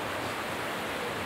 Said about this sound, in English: I can see here how strong the river flow